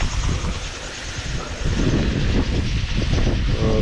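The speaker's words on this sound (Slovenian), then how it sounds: "piha zdaj tle v zavetju" Strong wind blows across a sailboat lying in shelter, a loud, steady roar with gusty buffeting of the microphone that swells in the second half.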